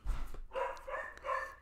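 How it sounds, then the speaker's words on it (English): Puppies barking indoors in the background, with a few short, yappy barks in quick succession, moderately loud and clear with no talk over them. "You got the puppies barking in the background."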